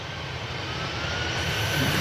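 An Aer Lingus jet airliner takes off at Manchester Airport, its engine roar a broad, steady rumble that swells slightly louder toward the end, heard alone.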